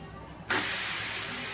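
After a moment of low background, Puneri-style thalipeeth dough hits a hot oiled tawa and sets off a sudden, loud, sustained hiss and sizzle.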